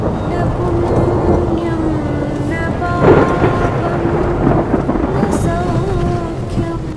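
A heavy thunderstorm on the Kedarnath trek, with steady loud rain and a low rumble of thunder swelling near the middle, sounding close and continuous throughout.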